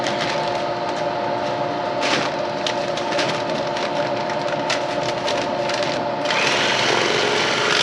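A bag-closing sewing machine stitches shut a heavy sack of potatoes, running as a steady close mechanical whir with a faint rapid rattle throughout, briefly rising in level near the end.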